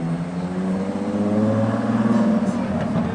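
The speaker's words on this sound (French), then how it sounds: "Le retour de la 812 config parfaite avec un échappement bien libéré" Ferrari 812 with a freed-up, less restrictive exhaust at a Monaco supercar show, its engine note a steady, loud harmonic drone with a slight rise in pitch, under crowd chatter and voices nearby.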